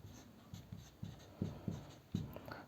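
A pen writes a roll number onto an OMR exam sheet: quiet, close scratching strokes arriving in short separate bursts, a few firm taps among them, with no talk.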